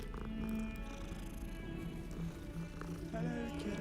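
A cat in the video game Hogwarts Legacy meows softly and purrs amid the game's steady ambient music and background hum, fairly faint.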